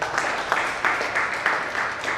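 An audience at a Hindi poetry gathering (kavi sammelan) gives a farmer steady, moderate applause, dense and continuous with slight rhythmic surges, heard alone and at some distance.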